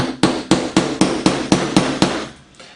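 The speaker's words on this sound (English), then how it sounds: "2 pins near the top of the blade can both be punched out with a nail punch, or a hammer and nail punch" A hammer strikes a nail punch to drive pins out of a 2005 Master Replicas Vader lightsaber blade, eight sharp evenly spaced metallic knocks about a quarter second apart before it goes quiet.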